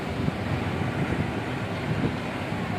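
Strong wind roars steadily into the microphone, a dense, buffeting rush with low gusty thumps and no pauses.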